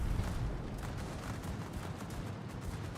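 Distant naval gunfire in World of Warships, a dense, muffled rumble of repeated booms and rattling shots rolling on continuously at a fairly low level.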